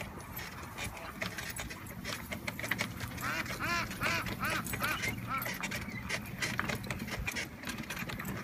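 A flock of geese at a pond honks repeatedly in a cluster of overlapping calls, fairly close, over a steady low background rumble.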